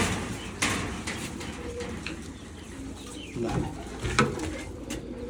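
Soft, throaty coos from breeding pigeons, a male and female pair, repeat at close range over a low background hum, with a faint flutter and occasional short chirps.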